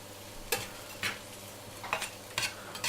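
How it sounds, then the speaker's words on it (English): Kale, chestnuts and brussels sprouts are stirred in a pan, giving four brief scraping, rustling strokes spaced apart over a faint steady sizzle, close and moderately quiet, with no talking. "Give it a stir."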